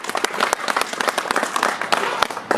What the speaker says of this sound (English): So if you guys would give her a big round of applause,